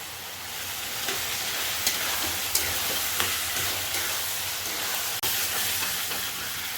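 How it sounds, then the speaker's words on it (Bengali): Water hitting a hot pan of matar ghugni sets off a steady, loud sizzle and hiss that holds throughout, with a few faint clicks of a utensil against the pan. "এই আমি জল দিয়ে দিচ্ছি।"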